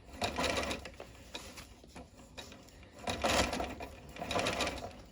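Sewing machine stitching shirring elastic seams on a summer dress, close bursts of rapid mechanical stitching separated by short pauses, with no voice over it.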